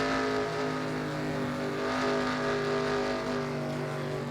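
A race car engine from the NASCAR Racing 2003 game, holding a steady loud droning harmonic whine throughout with no talk over it, like a car running at constant speed.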